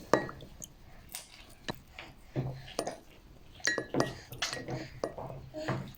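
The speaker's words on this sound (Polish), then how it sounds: "Całość ponownie mieszamy." A spoon clinks and taps against a glass or ceramic container while stirring a homemade vitamin C cosmetic serum, giving irregular sharp pings and scrapes close by.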